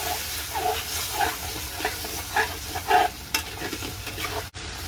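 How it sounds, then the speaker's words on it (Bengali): Goat-head and chickpea lentil dal gets stirred in a pot with the lid off, a soft scraping and sizzling with a rhythmic series of spoon strokes, close by and steady. "ঢাকনাটা নেমে আবার নাড়াচাড়া দিয়ে দিচ্ছি।"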